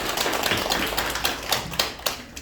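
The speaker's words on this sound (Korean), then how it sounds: "그게 하나님께 영광의 박수 올려드립니다" A church congregation claps together in a brief, dense burst of applause offered in praise during a worship service, with uneven louder claps standing out.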